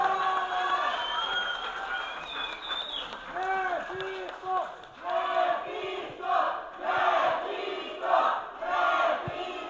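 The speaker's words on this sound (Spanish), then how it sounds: "un aplauso para el señor" A crowd at a lucha libre wrestling event yells and chants in rising, rhythmic bursts of voices, with a little scattered clapping mixed into the loud, close cheering.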